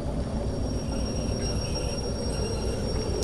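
Train in the Derail Valley railway simulator braking toward a halt: a steady, loud rumble of rolling wheels and brake noise with a faint high squeal running continuously throughout.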